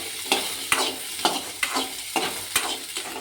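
Shallots are stirred in a frying pan with sizzling oil, about eight evenly spaced spoon scrapes over a soft steady fry, close and clear, no speech.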